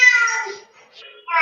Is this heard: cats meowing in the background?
yes